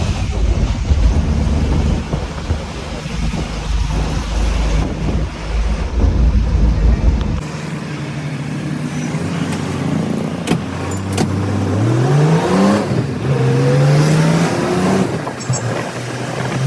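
A bus carrying passengers, its engine rumbling steadily inside the cabin before the tone shifts and a rising whine builds as it accelerates, with faint rattles and no clear talk.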